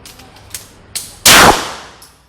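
Gunshots at a shooting practice range: a few faint pops, then one loud, sharp close-range report that rings out and fades, with no talking.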